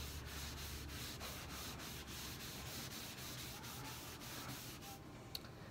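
A rag rubs wax into the surface of a wooden china cabinet, making a quiet, continuous scrubbing hiss with faint regular strokes throughout.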